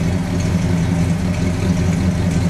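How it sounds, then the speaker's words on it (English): A deep, steady idle from a 1957 Chrysler 300C's 392-cubic-inch V8, with a rumbling low-pitched exhaust burble, loud and close, running continuously without revving. "There's our exhaust. Listen to that."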